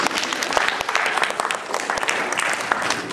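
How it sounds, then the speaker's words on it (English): Audience applause at a live demonstration show, a dense, steady wash of many hands clapping for about three seconds, fairly loud and close, with no clear talk over it. "please, a round of applause"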